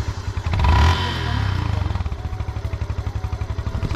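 A motorcycle engine revs up loudly nearby, then settles into a rhythmic, pulsing idle or low-speed putter with a faint rattle.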